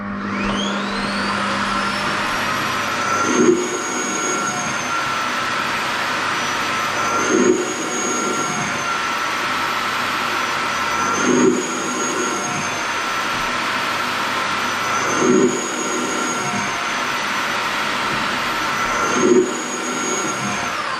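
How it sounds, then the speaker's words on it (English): A Samsung Clean Station empties dust from a Jet 90 Pro stick vacuum with a loud, steady roaring whoosh nearby, pulsing in regular surges about every four seconds, with no talking. "So we're just going to pop that in, and then it should suck it out."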